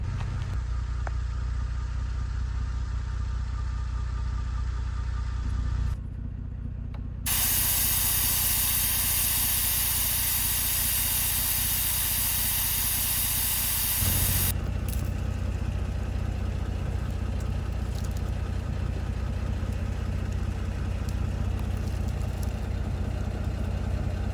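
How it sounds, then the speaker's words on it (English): Off-road vehicle tires are aired down, with a loud, steady rush of escaping air that starts and stops in bursts, over the low hum of an idling engine, with no talk. "As I'm airing down my tires"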